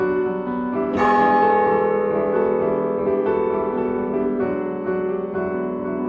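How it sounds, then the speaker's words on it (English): Clock tower bells in a 110-foot town tower chiming the quarter and hour, several resonant strikes ringing out with long decaying tones, the first around one second and others following at intervals. "The clock tower, 110 feet high, with bells one, two, three for the quarter and the hour"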